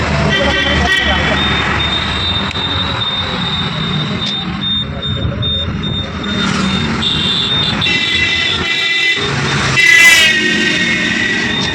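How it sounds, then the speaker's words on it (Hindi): Busy road traffic near a hospital, with trucks, buses and cars passing in a continuous roar that swells and eases, and a voice speaking over the din. "देखो कितना ट्रैफिक चल रहा है।"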